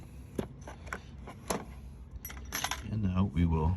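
Keys jangle and clink in a series of sharp metallic rattles while a Schlage deadbolt on a metal door is being rekeyed, with a brief stretch of nearby talk near the end.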